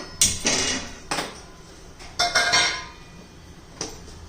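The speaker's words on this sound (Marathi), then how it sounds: "तोपर्यंत मी आता हा तवा गरम करण्यासाठी ठेवते." A metal tawa griddle is set down on a kitchen stove with several sharp clanks and clinks, the loudest near the start and middle and spaced a second or so apart, close by and without any voices.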